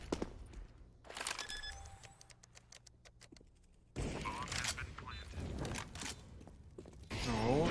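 Bursts of rifle and pistol gunfire in a Counter-Strike match on the Mirage map, sharp shots and rapid volleys in clusters with footsteps and game ticks, under a caster's commentary.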